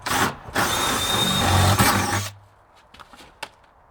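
Power drill bit pushing through the sheet metal of a truck camper at a loose tie-down point, a loud grinding whir for about two seconds that then stops, followed by faint clicks.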